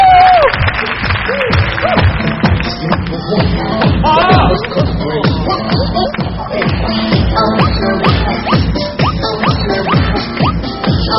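An audience applauds contestants on a Thai stage show: a long, loud stretch of dense clapping with crowd noise and scattered cheers, with voices talking over it.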